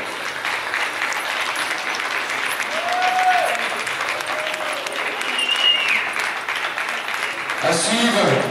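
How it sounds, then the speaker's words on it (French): Sustained audience applause at an equestrian show, riders in Camargue dress passing before the crowd; steady dense clapping throughout with a brief faint whistle-like tone, ending with a louder burst of noise. "Vous pouvez les applaudir bien fort."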